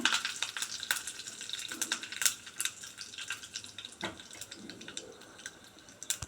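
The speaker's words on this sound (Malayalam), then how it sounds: "ഇനി ഈ കടുകൊന്ന് പൊട്ടുമ്പോൾ" Mustard seeds and fenugreek crackling and popping in hot oil for a tempering, scattered sharp pops over a soft sizzle with no talk.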